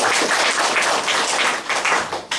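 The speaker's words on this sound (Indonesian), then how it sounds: "Kasih tepuk tangan dulu untuk Tuhan" A church congregation claps together in steady, dense applause, loud and continuous throughout with no talking.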